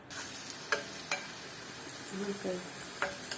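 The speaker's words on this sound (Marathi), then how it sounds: "पियाव घालचे, पियाव भाजून घेवपा." Onions fry in about four spoons of oil for a Konkani fresh methi rice: a faint, steady sizzle with scattered light clicks and scrapes of a spoon against the pan.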